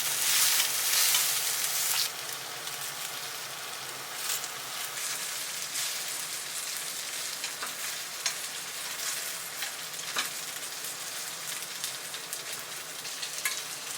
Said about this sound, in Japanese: 火加減は中火くらいで箸で転がしながら焼いていきます。